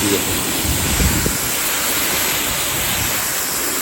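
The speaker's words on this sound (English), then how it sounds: "watch how flat this water lays when I spray it on the" A steady broadband hiss of water spraying hard onto car paint, loud and close, with no voices.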